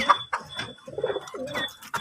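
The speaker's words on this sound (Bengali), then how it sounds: "এই যে আমাদের কবুতরগুলি ওই যে উপরের দুইটা বাচ্চা হয়ে বড় হয়েছে" Pigeons coo close by in a series of soft, throaty, rolling calls that rise and fall in short bursts, with no talking.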